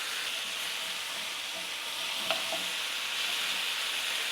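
Lamb chops sear in a crowded skillet with a continuous, moderately loud hiss and sizzle, plus a single faint utensil clink partway through. No voices.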